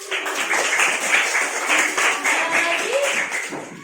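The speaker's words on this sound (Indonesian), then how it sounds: "Tepuk tangan." Students clap together in an Indonesian classroom after a classmate shares a comment, a short burst of hand clapping with some voices mixed in.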